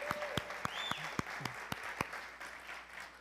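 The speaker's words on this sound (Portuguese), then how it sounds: "Palmas para o seu Valdir, vai." Scattered applause from a church congregation, sharp separate claps at a fairly regular pace, quiet and somewhat distant, with faint background sounds.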